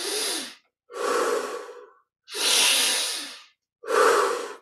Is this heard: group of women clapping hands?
no